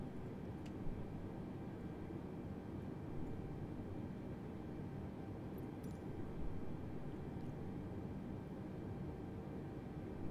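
Airbus A320 engine number 2 spooling up during start in Microsoft Flight Simulator 2020, a steady broadband roar and low rumble holding even throughout, with faint high whine above.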